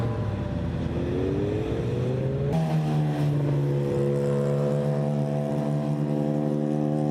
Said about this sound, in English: And I think this is a Lamborghini Gallardo.